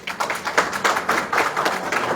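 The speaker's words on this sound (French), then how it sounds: "S'il vous plaît, veuillez l'applaudir." Rhythmic hand clapping from an audience at a youth peace workshop for Mali, about nine quick, evenly spaced claps in a couple of seconds, close and fairly loud.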